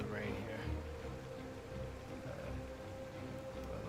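Rain in the video game Star Citizen, a dense, continuous patter with a low rumbling undertone, steady from start to finish.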